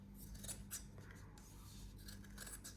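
Scissors trim a handmade Christmas ornament with a series of quiet, close snips and soft rubbing cuts, several short crisp bursts spaced irregularly over a faint background.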